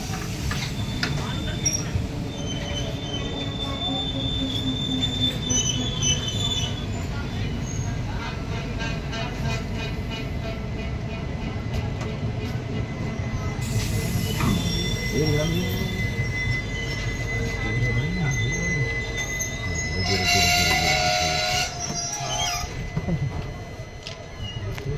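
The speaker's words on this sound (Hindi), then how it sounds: "आगरा फोर्ट से चलकर रामनगर आने वाली एक्सप्रेस ट्रेन हमारी प्लेटफॉर्म नंबर 2 पर अराइव कर रही है यहाँ पर।" An express train with an ICF rake rolling into a station platform, a loud continuous rumble of wheels with squealing brakes rising toward the end, while someone talks over it.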